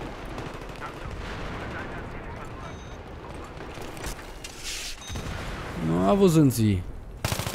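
Gunfire from a Battlefield 3 multiplayer match, a muffled spread of shots and impacts under steady game noise, with a voice talking through it and a loud tonal in-game cue near the end.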